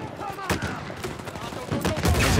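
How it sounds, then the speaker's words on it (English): Gunfire from a grenade launcher in the Uncharted 4 video game, a few loud sharp bursts and blasts in quick succession amid chaotic game noise, close and forceful. "It's a grenade launcher."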